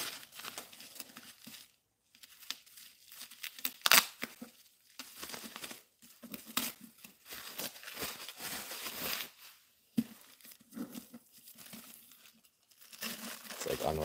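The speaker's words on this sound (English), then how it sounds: "Unwrapping a Christmas present." Paper is torn and crumpled off a wrapped Christmas book, with bursts of close crinkling and ripping separated by short pauses, and a voice speaks now and then.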